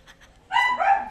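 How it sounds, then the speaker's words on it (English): A dog gives one close, loud bark after a couple of faint yips, with a whiny, tonal edge. "So when Binks barked, it literally is just like, what?"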